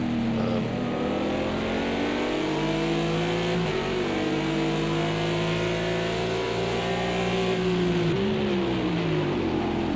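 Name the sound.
Audi race car engine in a sim racing game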